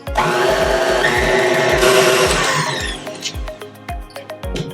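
An electric mixer whips butter, sugar and vanilla bean paste with a loud motor whir and rhythmic beater thumps, then eases down toward the end.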